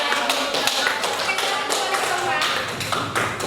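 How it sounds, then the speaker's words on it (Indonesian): A classroom applauds after a group presentation: a dense, steady patter of many hands clapping fills the room. "Kita berikan aplaus."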